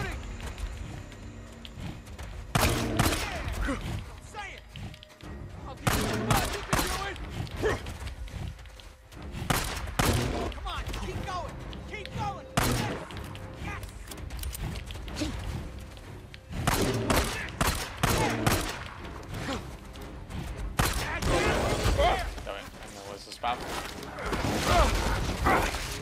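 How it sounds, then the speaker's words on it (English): Gunfire in the Days Gone video game, bursts of rapid shots in clustered volleys separated by brief lulls, loud and close, with people talking over parts of it. "Keep shooting."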